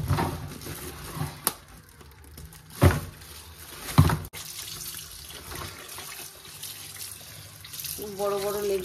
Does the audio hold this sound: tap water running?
yes